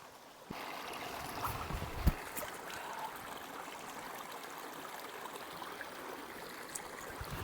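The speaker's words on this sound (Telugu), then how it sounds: "వాటర్ ఫాల్స్ వెళ్తూ ఉంది మొత్తం" Water at Ubbalamadugu waterfall rushes in a steady, moderately distant stream, a continuous low-level wash with a faint bump or two but no speech.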